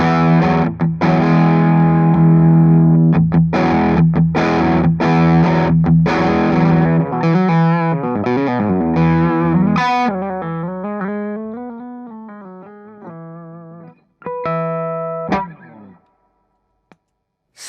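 Electric guitar driven through the King of Tone side of a Warm Audio Throne of Tone overdrive pedal: loud, thick, fat overdriven chords and strums, then a run of single-note bends and licks, ending with a few short stabs and a quiet tail.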